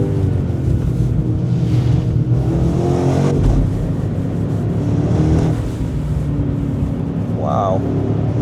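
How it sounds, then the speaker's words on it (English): A 2025 BMW M5 G90 accelerating at full throttle, a loud steady engine drone rising in pitch, with someone talking over it throughout. "But I'm flooring it right now, instant grip."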